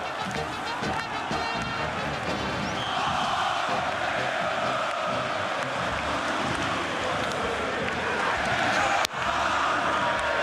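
A large stadium crowd of Flamengo fans chants along with the players at a Libertadores title celebration, a dense, continuous roar with rhythmic shouting and wind buffeting the microphone, one sharp knock near the end.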